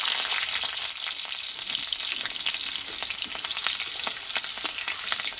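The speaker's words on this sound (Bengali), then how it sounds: "দেখো লঙ্কাটা পাঁচফোড়নটাই ভালোভাবে ভেজে নিয়েছি" Panch phoron and dried red chillies crackle in hot mustard oil for a Bengali leafy-greens dish, a close, continuous frying sizzle with sharp pops scattered throughout and no speech.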